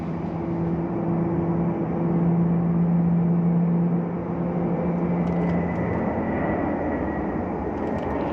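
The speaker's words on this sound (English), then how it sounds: "see if we can see these planes taking off." Airplanes taking off at Glasgow Airport, a steady, distant roar of engines with a low droning hum that holds and slowly shifts in tone, heard without talk.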